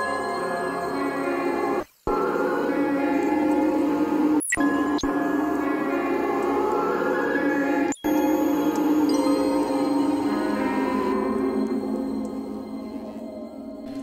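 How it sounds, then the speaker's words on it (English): A glitchy synth melody is run through a frequency shifter with an automated shift, producing a dense, continuous, loud tone that breaks off in a few abrupt dropouts and thins slightly near the end. "So the melody with the frequency shifter sounds like this."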